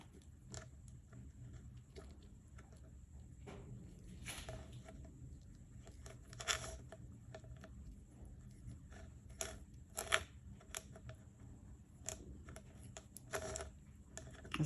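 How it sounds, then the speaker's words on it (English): Small scissors trimming around a sticky silicone mould, a faint scattered series of sharp snips and crinkly cuts at an uneven pace over a quiet background. "Give it a bit of a trim around with a little pair of scissors."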